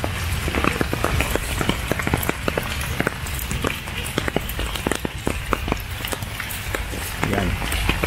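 Steady, moderate rain falls over a pechay vegetable patch in the Philippines, a continuous wash of patter dotted with sharp nearby drips and taps, with a voice speaking over it.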